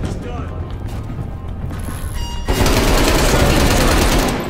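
A sentry gun in Call of Duty fires rapid continuous bursts, loud and dense, with game noise underneath and a louder stretch in the second half.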